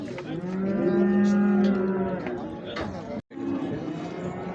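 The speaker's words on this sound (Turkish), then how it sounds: "İnek de bu gözüküyor." A Holstein cow at a livestock market in Göksun, Kahramanmaraş, gives a long, loud, close moo, followed by a second lower call under nearby people talking.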